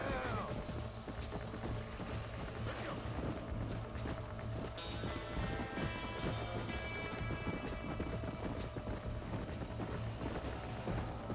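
Horse hooves in Red Dead Redemption 2 clop steadily through a continuous wash of rain and rumbling thunder, with the storm noise dense and constant throughout.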